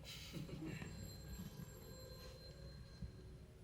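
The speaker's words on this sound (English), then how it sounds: "That phone, it's been ringing like that all this while, on and off." A telephone rings faintly and repeatedly in a quiet indoor scene, its thin electronic tones sitting over a low background hum, with no one speaking.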